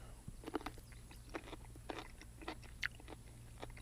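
Close, quiet crunching bites and chewing of a fermented pickle, a handful of crisp snaps spaced irregularly over a low background hum.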